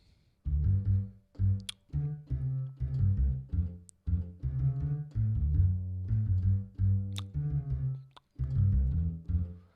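Keyboard bass line in a funk-style groove, low notes played alone in short rhythmic phrases with brief pauses between them, close and clear.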